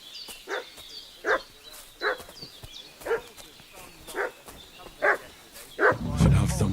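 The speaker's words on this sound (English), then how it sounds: "What's that dog making such a fuss about?" A dog barks repeatedly in the medieval role-playing game Kingdom Come: Deliverance 2, evenly spaced sharp barks at moderate distance over a steady outdoor ambience, with a rumble building at the end.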